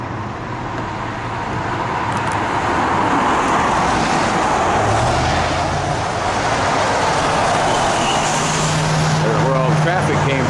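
Steady roar of cars passing on a canyon road, a continuous close wash of tyre and engine noise with swells as vehicles go by, voices talking over it.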